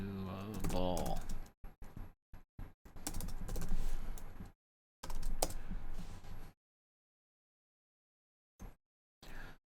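Code being typed on a computer keyboard during a ComputerCraft coding session: clattering keystrokes in bursts with pauses and some silent gaps, close and moderately loud, with speech mixed in.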